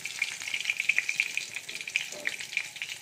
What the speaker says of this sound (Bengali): এই যে দেখুন মাছ ভাজা হয়ে গেছে। এবার মাছ ভাজাগুলো তুলে নেব।